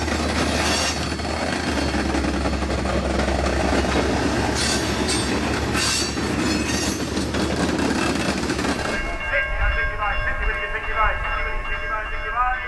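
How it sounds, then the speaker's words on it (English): An EMD GP40-3 diesel locomotive, a Chessie-era four-axle unit, switches rail cars on an old industrial track. A steady, loud engine rumble with rolling car noise runs throughout and shifts to a lighter, more tonal clatter near the end. "big railroads keep small engines like this Chessie-era GP40 and keeps rebuilding them"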